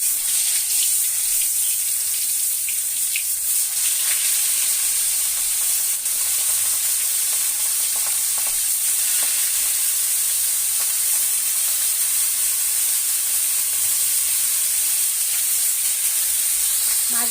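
Spice-coated fish, rubbed with turmeric and dried chili, frying in oil in a home kitchen, giving a steady broad hiss and crackle that holds loud and unbroken from start to finish, with no voices.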